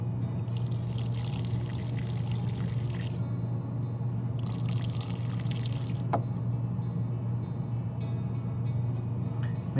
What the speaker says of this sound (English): it is dripping still.